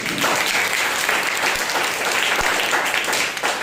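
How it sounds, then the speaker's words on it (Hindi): Loud, steady applause from a church congregation at a Sunday Christmas service, dense clapping filling the room without a break for the full few seconds. "एक जोरदार ताली बजाइए।"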